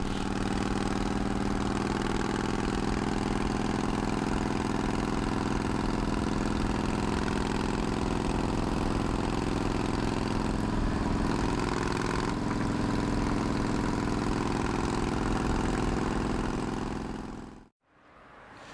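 A custom chopper motorcycle engine idles steadily with a deep, throbbing rumble for a long stretch, then cuts off abruptly near the end.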